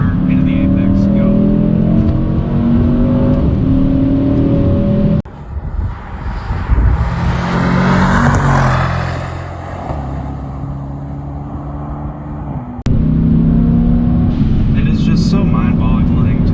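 A 2021 Mercedes E63s AMG wagon roars steadily under hard driving, its note dropping away briefly as it brakes and downshifts for a corner before surging loud again, with someone talking over it.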